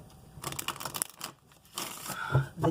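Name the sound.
shuffling tarot cards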